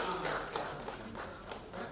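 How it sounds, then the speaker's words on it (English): Audience applause at a corporate conference in Mumbai as two panel speakers walk onto the stage, a steady, dense wash of many hands clapping at close range for about two seconds, with no speech over it. "give them a round of applause as they come over"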